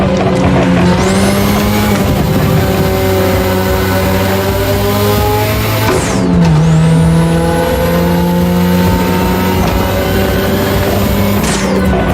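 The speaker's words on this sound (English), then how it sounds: "Tonight your ride is a 3rd gen 2002 Mazda RX-7. Lightweight, compact, a sick rotary engine" A 2002 third-generation Mazda RX-7 with a rotary engine racing in The Crew Motorfest, revving hard through two long rising acceleration pulls, each ending in a gear shift, loud and close with no talking.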